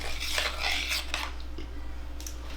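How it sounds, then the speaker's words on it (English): Sugar is stirred in a pot while bissap is being made, a spoon scraping and clinking against the metal in a few close, light strokes, with no talking. "So we'll stir that a little bit. You don't want to burn on it, so I just stir it to sort of melt that sugar."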